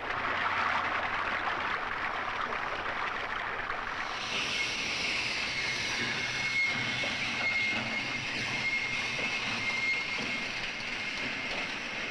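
An oil tanker train rumbles steadily past at close range, wheels clattering on the rails, with a thin high metallic squeal joining partway through.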